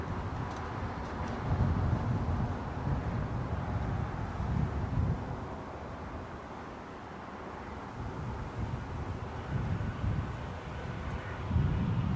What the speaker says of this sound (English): the wind, you can probably tell on the mic, is picking up